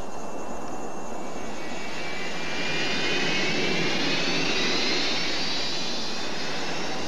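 Steady broadband roar of an airliner's jet engines at cruising altitude, heard from inside the cabin, a constant loud hiss and rumble that swells slightly partway through, with no voices.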